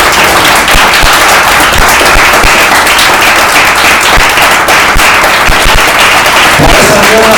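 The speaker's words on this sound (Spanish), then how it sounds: "dar un aplauso a Dios" Loud, dense applause from a church congregation during a sermon, sustained crackling claps filling the space, with faint voices underneath.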